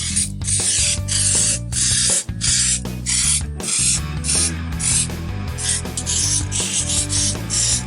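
Gasket-removal product sprayed onto the head gasket face of a Renault 4L cylinder head, loud close hissing bursts in a rapid repeated rhythm with brief gaps, no voices.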